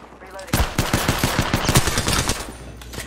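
Rapid automatic gunfire in the video game Apex Legends, a loud burst of evenly spaced shots starting after a quiet half-second and running about two seconds before trailing off.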